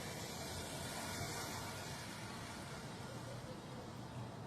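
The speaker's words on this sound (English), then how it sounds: "Just cars going off." Cars passing on a road outside a parked car with its engine switched off, a steady broadband roadway wash that stays constant and moderately loud with no distinct individual pass-bys.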